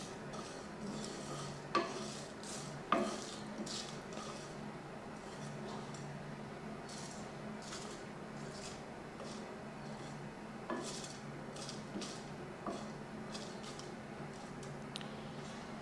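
Seekh kabab masala spices being dry roasted in a pan, with soft scraping and stirring under a quiet background hum and a few sharp metallic clinks of utensil against the pan.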